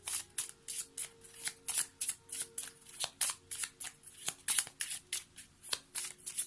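Lenormand cards being shuffled in a tarot-style reading, a steady series of crisp papery riffles and slaps repeating about twice a second, close and clear with no talking.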